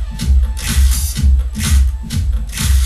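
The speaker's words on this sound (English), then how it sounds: "because it's the same song, it's got a phasing, like a flanger type sound to it" Two copies of the same song play nearly in sync, producing a swirling, phasing, flanger-like sweep over a steady thumping beat with hissy, washed-out highs.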